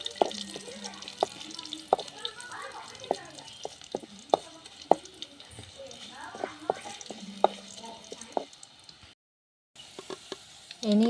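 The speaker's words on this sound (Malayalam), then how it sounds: "അതൊക്കെ ഒന്ന് മൂത്ത് വരുന്നത് വരെ ഒന്ന് ഇളക്കി കൊടുക്കാം." Garlic and curry leaves fry in a pan while being stirred, giving regular close clacks of the utensil against the pan over a soft sizzle. A short silent gap comes near the end, and a voice is faintly present.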